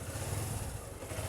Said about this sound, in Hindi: इसका इंजन का साउंड आप सुन सकते हैं